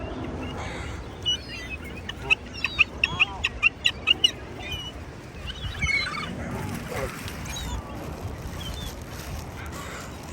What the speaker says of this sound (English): So I'm feeding this duck, this smaller duck, trying to steal food.